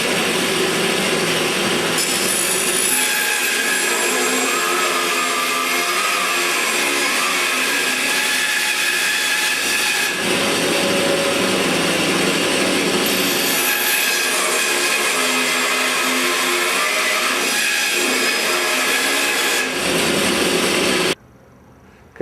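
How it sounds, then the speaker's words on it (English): A bandsaw cutting and shaping a block of wood runs steadily and loudly for about twenty seconds, its high whining blade rising and falling as the cut progresses, then stops abruptly. "So I'm going to shape this on a bandsaw."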